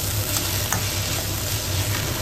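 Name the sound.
stirring banana flower frying in a pan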